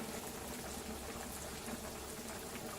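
Turkey necks simmer in a pot on the stove for a soul food Sunday dinner, a steady, quiet bubbling and fizzing that runs without pause.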